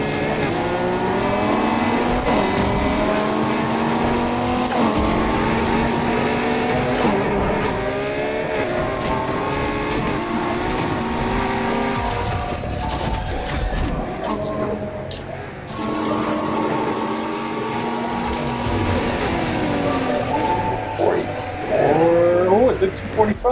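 A hypercar engine in Need for Speed Heat screaming through a top speed run, with loud, sustained revving that climbs and drops through repeated gear changes, steady and close throughout.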